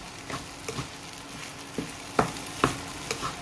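Pork fried rice is stir-fried in a pan over gentle electric heat: a soft, continuous sizzle broken by several sharp scrapes and taps of the spatula, close and fairly quiet, with no talking.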